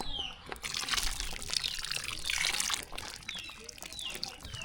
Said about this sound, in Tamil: கடைசியாக புளி தண்ணி சேர்த்துக்கலாம்